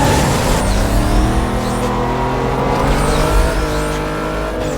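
Dodge Charger classic car racing in Need for Speed Most Wanted, a steady loud engine roar with rising revs and some tire squeal, continuous throughout without talk.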